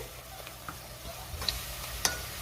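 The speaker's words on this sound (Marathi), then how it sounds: "कांदा मी चांगला 2 ते 3 मिनिटं परतून घेणार आहे" Finely chopped onion sautés in a pan for chicken masala, a faint low sizzle with a few soft spatula taps and scrapes.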